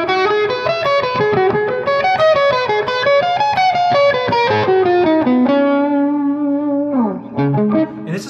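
An electric guitar with a distorted tone plays a pentatonic lick slowly with alternate picking, as a clear run of descending single notes that ends on a sustained note and a few final plucks.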